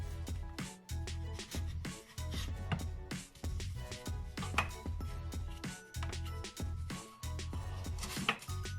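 Scone dough is cut out with a cutter on a work surface, giving a run of rhythmic thuds and scraping knocks, close and fairly quiet, repeated many times in irregular bursts.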